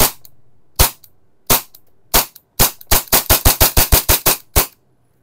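Airsoft gun fired in semi-automatic mode: a few spaced single shots, then a quick run of about a dozen sharp cracks in rapid succession, each loud and close, with no talking.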